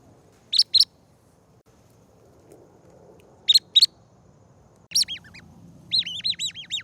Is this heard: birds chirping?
yes